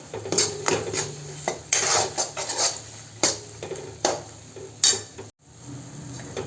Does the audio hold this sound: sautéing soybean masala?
yes